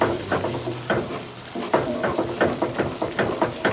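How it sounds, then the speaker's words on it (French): Tomato sauce for a Cameroonian-style dish simmers in a pot, giving off a steady bubbling sizzle with soft, rhythmic pops and occasional stirring clinks, close and moderately loud. "Nous voyons que ça mijote."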